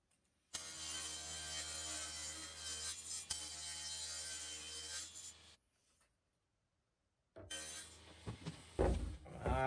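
A saw cuts the front and back pieces of a small wooden drawer in a workshop, with a sustained loud rasping cut, a brief pause of silence, then a second cutting pass that grows louder.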